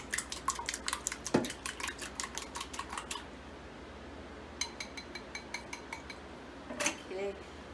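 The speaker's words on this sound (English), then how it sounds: "Whisk it a little." An egg is whisked in a bowl as a rapid run of light, sharp utensil clicks against the side, pausing and then resuming briefly, close and fairly quiet without talk.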